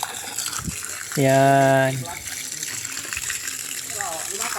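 Water gushes strongly and steadily into a fish pond, a continuous broadband rush that runs through the whole stretch, with a voice briefly calling out over it near the start.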